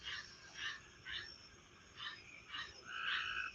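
Tree frogs call at night near a barn, several rhythmic croaking bursts overlapping one another at moderate distance, backed by a continuous hum of insects and no talking.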